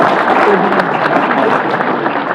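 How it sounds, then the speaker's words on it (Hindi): Applause from the audience at a Hindi and Rajasthani kavi sammelan poetry recital on a 26 January evening, a loud, dense, steady wash of many hands clapping together for the whole stretch. "उसके सम्मान में भी एक बार तालियां बजा दीजिए।"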